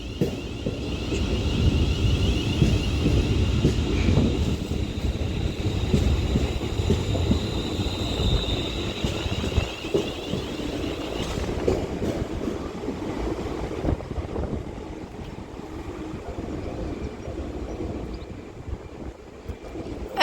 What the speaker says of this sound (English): And then I can also see another train coming in up over there.